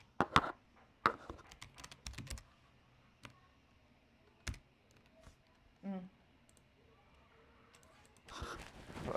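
A computer keyboard clicks as an email address is typed, in sparse irregular bursts of keystrokes at moderate volume, with a few louder taps and a bit of background noise.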